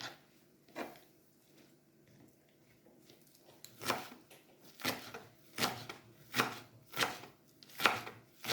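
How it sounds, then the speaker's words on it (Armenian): A knife chops fresh green onion on a board while tabbouleh is prepared. A few scattered cuts come first, then a steady run of sharp, close, evenly spaced chops, about one per second, with no talking. "Կանաչ սոխ եմ կտրում"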